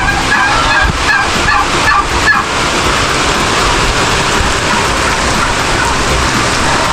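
Chickens and turkeys honk and cluck in short calls early on over a steady downpour of rain drumming on a surface nearby.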